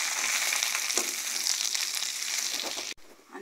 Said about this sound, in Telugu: ఇప్పుడు సన్న సెగలోనే మనం వేయించుకున్నామండి